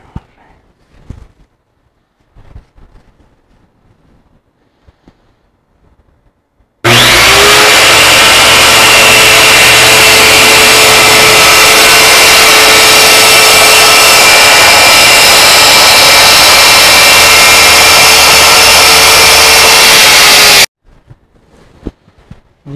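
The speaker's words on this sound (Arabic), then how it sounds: "ولا نستعجل في القص يا اخوان، نخلي المنشار ياخذ راحته وهو يقص." An electric power saw roars loudly and steadily for about fourteen seconds while cutting a side wall panel for a small camping trailer, beginning abruptly and stopping sharply, with faint handling noises before and after.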